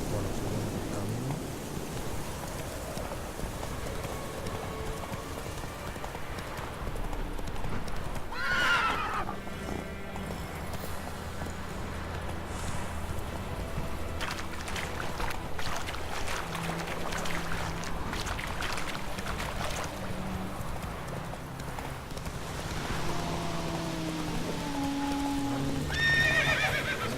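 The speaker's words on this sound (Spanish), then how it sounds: "Este caballo es tonto" Horse hooves clip-clop along a road in The Witcher 3 while the animal whinnies and neighs, set against rumbling thunder and falling rain in a stormy game scene; steady and fairly loud throughout.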